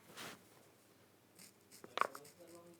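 A pen nib colours in a design with short, quiet scratchy strokes, ending in a brief sharper burst of scraping; soft and close, with faint background noise.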